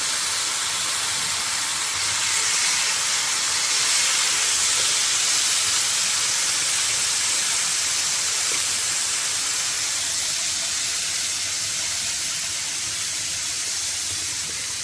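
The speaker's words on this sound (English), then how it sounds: "you're going to go ahead and get your steak into the skillet or cast iron" Steak fries in a cast iron skillet with cilantro and onions, giving a loud, steady broadband hiss that holds unbroken for about fifteen seconds with no voices.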